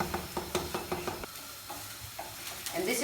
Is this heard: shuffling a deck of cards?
no